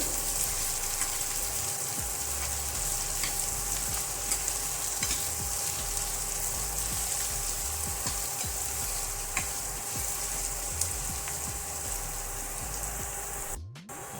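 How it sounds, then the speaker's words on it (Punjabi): Onions roast in a pan for a lobia (black-eyed bean) curry, giving a steady, dense sizzle with soft scraping and stirring throughout, close by and with no talk, until a brief knock near the end. "ਪਿਆਜ਼ਾਂ ਨੂੰ ਵੀ ਆਪਾਂ ਭੁੰਨਾਂਗੇ"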